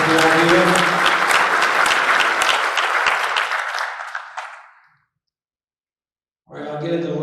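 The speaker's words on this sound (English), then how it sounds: "So another round of applause, please, for Mike and Barry." Dense audience applause fills the room at a club's annual business meeting, loud and sustained, then fades out into silence before a voice begins speaking.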